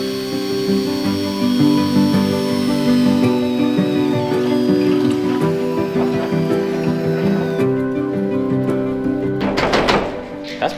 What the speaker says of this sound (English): This is the 200th hole that I'm drilling into my car now.